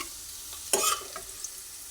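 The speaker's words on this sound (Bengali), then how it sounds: "এইভাবে ভেজে নিচ্ছি আলু ভেজে নিয়েছি সব আলু" Potatoes frying in oil give a short, bright burst of sizzling and stirring near the middle, then a faint hiss with a couple of small pops.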